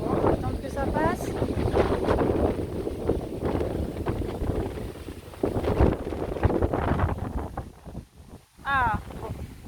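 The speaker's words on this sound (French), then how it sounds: "Oh, le vent!" Gusty wind buffets the microphone outdoors beside a small green pond, heavy low rumble broken by voices and a couple of brief squeaky chirps.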